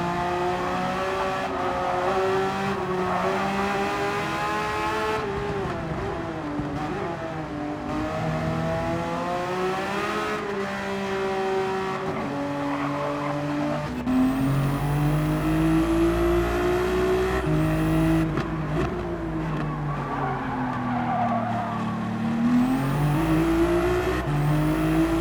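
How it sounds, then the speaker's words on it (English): A race car engine in a VR sim racing league race roars continuously, its revs climbing and dropping through gear changes and corners, loud and close with no voices. "Love the sound of this car in VR."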